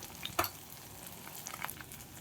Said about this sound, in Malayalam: ഇനി ഇതിനെ വറുത്ത് കോരിയതിന് ശേഷം അടുത്ത ട്രിപ്പ് ഇടാം